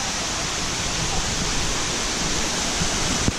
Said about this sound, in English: They drove us through the jungle, and here we are at a waterfall.